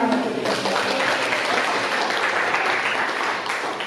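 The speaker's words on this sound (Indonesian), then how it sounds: "tepuk tangan untuk kita" A class of schoolchildren applauds together in a steady, dense wash of clapping that holds close and loud for the whole stretch, with a few voices mixed in.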